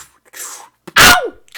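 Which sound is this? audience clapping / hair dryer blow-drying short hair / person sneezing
person sneezing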